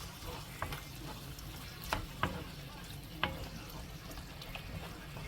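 Jjajang sauce stir-fried in oil for homemade jjajangmyeon, a steady low sizzle with scattered sharp clicks of a spatula against the pan, fairly quiet and close.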